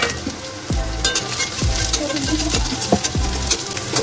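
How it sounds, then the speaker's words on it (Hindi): Chopped onion and potato fry in a pan, giving a steady loud sizzle with a few sharp scraping stirs at roughly even intervals. "ये प्याज भी फ्राई हो गया है आलू के साथ।"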